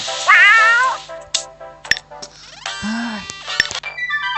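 Cartoonish cat meows from the video game Kitty in the Box, several high wavering calls mixed with short clicks and chiming game effects, clear and up front.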